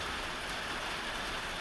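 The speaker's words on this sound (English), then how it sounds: "But y'all see the rain coming down on the bayou." Rain falls steadily on a bayou, a dense continuous hiss of drops on water and surfaces, even in level and fairly soft.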